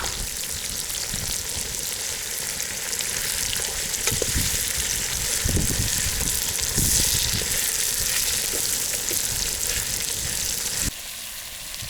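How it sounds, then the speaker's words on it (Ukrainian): Onion and then carrot fry in a pan on a fishing trip outdoors, a steady loud sizzle with occasional stirring scrapes and crackles, running continuously for about eleven seconds before dropping slightly at the end. "Жарим шкварим и кидаем затем морку"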